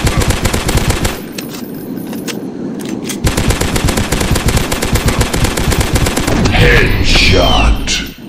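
Rapid automatic gunfire from a dinosaur hunting video game, loud dense bursts of shots with a short pause near the start, a brief voice heard faintly among them.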